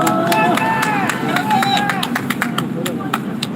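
A crowd gathered around an outdoor press conference at Seoul City Hall claps in scattered, uneven bursts, with excited voices and shouting blending into the clapping.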